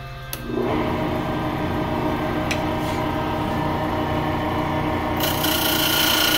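A roughing gouge cutting a spinning wooden cup blank on a wood lathe, a loud continuous rasping, scraping hum with a faint motor tone that starts abruptly and holds steady up close.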